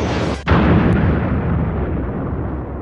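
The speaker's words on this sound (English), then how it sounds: "To blow up the Death Star" A huge explosion blowing up the Death Star in a homemade Star Wars parody, a loud sudden boom after a brief cutout that rolls into a long, dense rumbling roar, with no voices.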